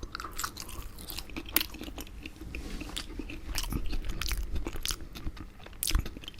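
Crunchy fries being bitten and chewed up close, a run of crisp crunches and wet chewing sounds repeating unevenly, fairly loud and alone without talk.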